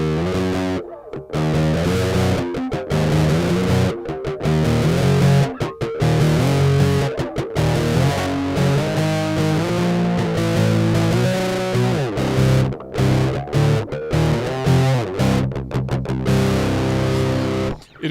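Heavy electric guitar drenched in thick fuzz distortion, playing continuously with brief gaps between chords, loud and close.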